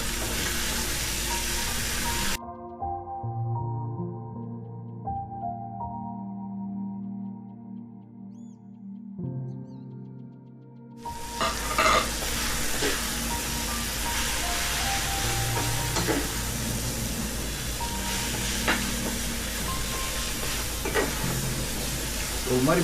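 Pepper, cumin and garam masala sauté in hot oil for a spicy mutton rib fry, sizzling and crackling steadily with stirring. A tuneful musical interlude briefly replaces the frying before the loud sizzle returns.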